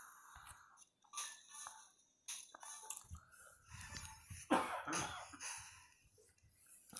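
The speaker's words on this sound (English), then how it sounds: "the last 2 days I've had this horrible cough" Coughing and throat clearing from a person with a bad cough, several faint, close bursts scattered across a quiet background.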